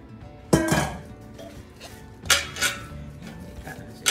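Meatloaf mixture lands in a metal roasting pan with a couple of sharp clanks and scraping knocks, close and fairly loud, with quieter rattles in between.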